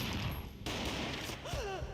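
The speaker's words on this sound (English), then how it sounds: "A gunshot boomed and she fell down in slow motion." A gunshot in the Max Payne video game on Xbox, a loud booming blast followed by a second heavy burst over a dense, noisy game soundscape.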